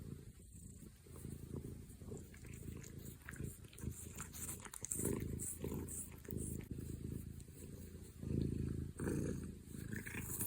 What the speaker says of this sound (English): So you may hear some purring throughout the video.